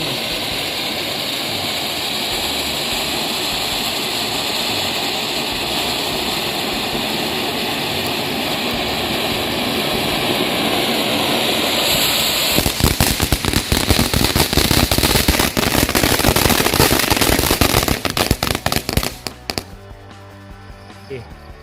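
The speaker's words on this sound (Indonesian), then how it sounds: "Mercon air mancur jumbo" A steady roaring hiss of a large jumbo fountain firework burning outdoors at night for about twelve seconds, then a dense burst of sharp crackling pops before it dies away.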